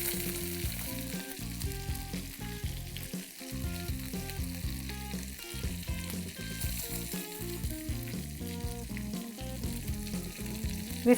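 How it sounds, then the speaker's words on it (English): Steady, continuous sizzling of prawns frying in hot oil, close and fairly loud, with crackles and occasional stirring, no voices. "We finished frying the prawns."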